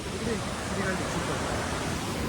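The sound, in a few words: water released from Chas Kaman dam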